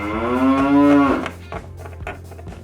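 A cow gives a loud, close, drawn-out moo that slides slightly upward and then stops abruptly, followed by quiet clicks and taps.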